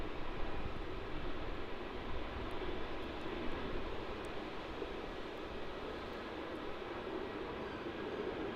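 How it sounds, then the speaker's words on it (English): A Virgin Australia jet on the Melbourne to Sydney run departs Melbourne Airport, giving a continuous distant engine roar that stays fairly faint and even, with a slight swell near the start. "On departure here we have VA829 off to Sydney, the next milk run."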